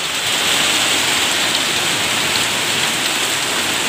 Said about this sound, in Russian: Хорошо, град небольшой.